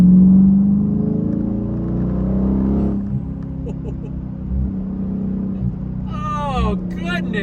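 Dodge Challenger SRT8 V8 engine pulling in third gear, a deep, loud droning rumble heard from inside the car that eases off, with people talking and exclaiming over it near the end.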